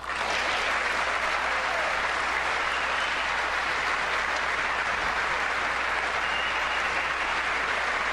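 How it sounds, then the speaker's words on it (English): A large legislative chamber audience at a State of the Union address breaks into sustained, loud applause, a dense wash of clapping that holds steady for several seconds. "Nope, they're applauding."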